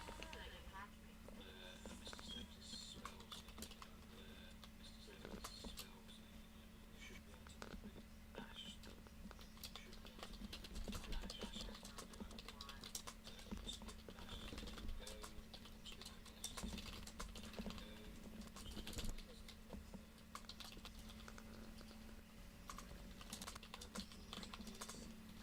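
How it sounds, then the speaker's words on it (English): Computer keyboard typing runs steadily and quietly throughout, with irregular rapid key clicks under a faint, low murmur of background voice. "Pardon the typing"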